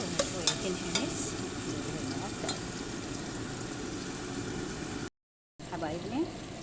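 Garlic fries in a pot for white bean stew while being stirred, a soft constant sizzle with occasional spoon clinks, briefly cut to silence near the end before resuming.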